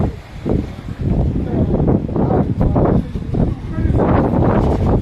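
Strong wind on a boat in the middle of the sea buffets the microphone in a continuous roaring rumble, with gusts rising and falling throughout; faint voices can be made out beneath it.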